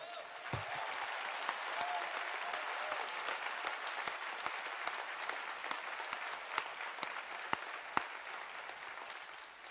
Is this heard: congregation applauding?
yes